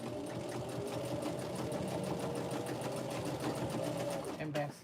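Sewing machine running a steady fast stitch while back stitching a fabric pocket tissue pack cover, a close continuous rhythmic whirring hum with faint speech underneath, slowing and stopping just at the end.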